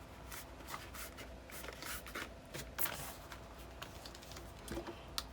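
Paper gussets on a jumbo album hinge being burnished by hand, giving soft, continuous rubbing and brushing strokes with faint scratchy swishes, quiet and close with no talk.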